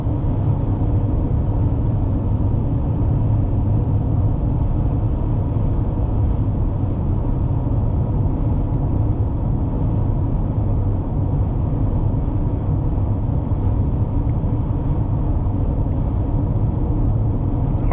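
A 2020 Toyota Highlander cruising at 64 mph, heard as a steady, loud low rumble of road and engine noise inside the cabin, unbroken and even throughout with no talking.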